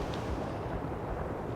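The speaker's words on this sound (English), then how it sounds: "We can start a heavy barrage. Over. Firing for effect." Heavy artillery barrage in the real-time strategy game World in Conflict: Soviet Assault, a faint, low, continuous rumble of distant shelling with no distinct individual blasts and no voices.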